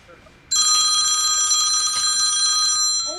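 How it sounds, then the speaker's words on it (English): A phone rings with a bright, continuous trilling bell that starts abruptly and holds loud and steady for nearly three seconds. "Is that him ringing your phone?"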